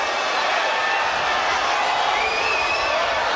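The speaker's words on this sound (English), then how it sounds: "listen to this crowd" Steady roar of a large crowd at a bare-knuckle fight night in Honolulu, a dense continuous wash of cheering and murmur with no breaks, loud and filling the arena.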